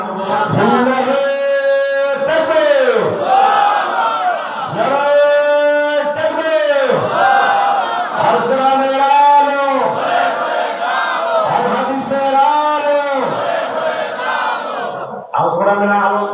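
A large crowd at a madrasa mahfil religious gathering shouts takbir in unison, loud repeated chanted calls in a steady rhythm of about six swells, close and filling the space.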